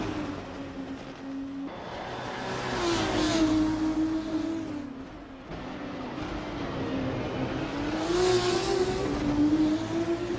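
Race car engines roar in Assetto Corsa at Phillip Island, a steady droning whine that rises and falls with shifts and acceleration, sounding fairly close and continuous with no talk.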